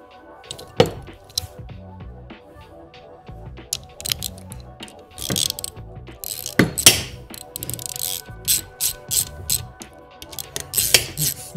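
A ratchet tightens the bolts of a rebuilt Cadillac water pump in a crisscross pattern, giving bursts of close, sharp clicking and metallic taps with short pauses between runs.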